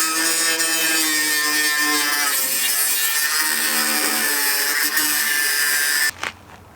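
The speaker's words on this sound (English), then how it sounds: "A grinder is not my favorite thing in the world" An angle grinder, run off a portable power battery, cuts a large hole through a van's sheet-metal body with a loud, steady, harmonic whine for about six seconds before stopping abruptly.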